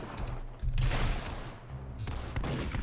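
An automatic rifle in the video game Arsenal lets off bursts of rapid gunfire, dense crackling volleys with a brief gap between them, loud and close over a low background rumble.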